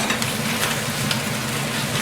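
Sauce is stirred into sizzling fried pork and vegetables for sweet and sour pork, with steady crackling and hissing from the pan and scraping stirring noises throughout, close and fairly loud.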